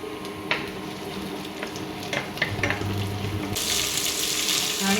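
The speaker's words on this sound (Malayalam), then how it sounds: "എന്നിട്ട് ചെറുതായിട്ട് നമുക്ക് ഇളക്കി കൊടുക്കാം നമ്മുടെ വെളുത്തുള്ളിയും ഇഞ്ചി" Garlic, ginger, onion and green chilli sizzle and fry in a pan for a fish curry while being stirred, with steady close crackling and a few sharp scraping clicks, growing louder near the end.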